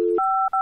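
Phone dialing tones from the horror video game Babysitter Bloodbath: a short run of crisp touch-tone beeps, clean and close, in quick succession as a number is keyed in.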